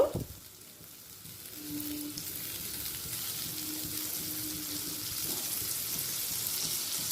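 Potatoes and pointed gourd sizzle in hot oil in a pan, a steady, moderately loud frying hiss with faint stirring, no talk.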